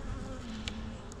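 Honey bees buzz around a hive in a dense, steady drone, with a low hum close by and a few brief higher whines from passing bees.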